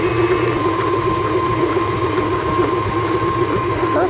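A kitchen blender whirs steadily as it mixes key lime pie filling with cream cheese, a loud continuous motor drone with a constant pitch, held close and alone for a few seconds.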